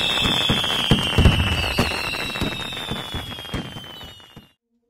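A celebratory fireworks salute marking a WWII Stalingrad victory anniversary: a rapid run of close, loud bangs and crackles over a high whistling tone, fading out over a few seconds.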